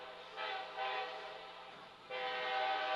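A train passes near a high school soccer field during a match, its horn sounding in long sustained blasts that swell, fade briefly and return, carrying loudly across the field.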